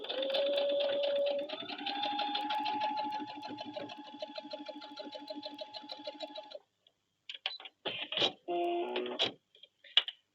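Sewing machine stitching a quilt seam corner to corner through fabric, a steady rapid mechanical chatter for about six seconds, then stopping, followed by scattered clicks and handling noises.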